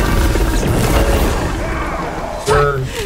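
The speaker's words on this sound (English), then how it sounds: "I gotta make an explosion!" An explosion in the video game SMITE, a loud booming rumble with crashing debris that swells and fades, followed by a sharp burst of game effects near the end, with someone talking over it.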